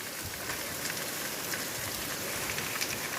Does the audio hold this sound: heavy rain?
yes